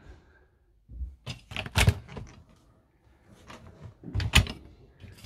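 The freezer door of a Carthago Chic C-Line T4.8 LE motorhome is opened and shut, giving close clicks, thumps and latch clacks in two clusters separated by a short pause.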